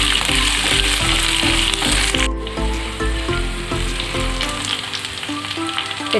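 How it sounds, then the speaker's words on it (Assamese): Capsicum frying in a hot pan for chilli paneer gives a continuous crisp sizzle under background music, with a brief sharp clatter partway through. "এইখিনি 2 মিনিট সময় ভাজি ল'ব লাগিব।"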